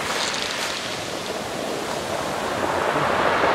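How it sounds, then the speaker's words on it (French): Ocean waves wash and break onto the beach at Port Ouest, Réunion, a steady close roar of surf with wind, rising slightly toward the end, no voices. "J'ai échappé à la vague."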